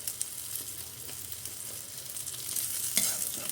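Fish fillets sizzle in a frying pan, a steady close crackle of hot oil with light scraping and stirring noises and a brighter spurt of spitting near the end.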